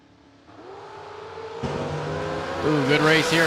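Drag race cars launch and race down the strip at a Sunday bracket event, engine roar building from a low idle to loud, rising revving with tire noise, mixed with crowd or announcer voices underneath.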